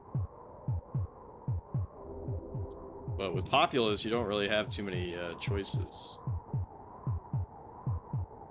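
Heartbeat sound effect from the SNES video game Populous: steady, evenly spaced low thumps that run through the whole stretch, with someone talking over the middle section.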